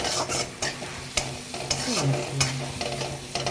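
Coriander, cumin and red chilli powder frying in a pan while being stirred, with repeated scraping strokes of a spoon over a steady sizzle, close and fairly loud, no talking.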